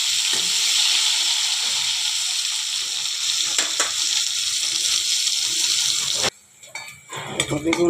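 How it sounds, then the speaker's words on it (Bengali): Eggplant fries in oil with a continuous close sizzle for most of the time, then the frying sound cuts off and a few clatters and rustles follow, with brief faint voices in the background. "বেগুনটা ভেজে নেব।"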